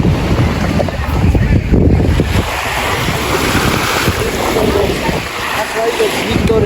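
Sea waves washing onto a sandy Mediterranean beach in Cyprus with strong wind buffeting the microphone, a loud continuous roar of surf and gusts, with some voices underneath.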